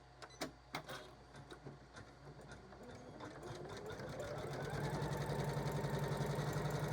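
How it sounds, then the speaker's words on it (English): A sewing machine stitches an appliqué satin stitch for an in-the-hoop quilt block, starting with a few separate mechanical thumps and building into a steady, fast, loud whirring hum. No one speaks. "Okay, so here we go with the satin stitch."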